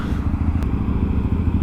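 Honda Grom motorcycle idling at a stop, a close, steady low engine putter with a faint rattle and one brief click, no talk over it.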